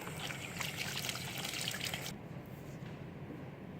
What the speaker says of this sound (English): now I've got my 100 milliliters of hot tap water in here